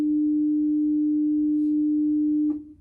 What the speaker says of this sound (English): So we're going to adjust the tuning of this up 40 cents to this